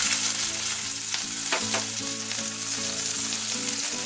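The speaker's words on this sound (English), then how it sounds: "Now I will fry it. I will fry the onion," Chopped onion and cumin seeds fry in a karai, a steady close sizzle running throughout with a few soft stirring clinks mid-way, no voices.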